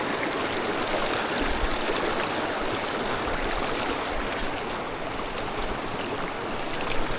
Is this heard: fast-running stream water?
yes